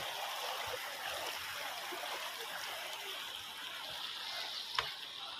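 A stream flows with a steady, soft rushing and trickling, heard at a moderate distance, with one small splash near the end and no talking.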